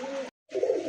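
Grizzle blue racer pigeons coo softly and close by in two short bursts separated by a brief silence, with no voices present.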